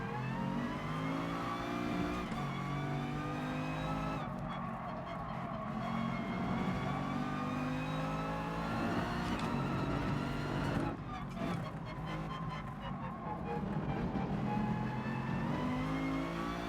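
A race car in GT Sport, during FIA manufacturer testing, revs hard with a steady, loud engine drone that rises and falls throughout, with brief surges near the middle and end.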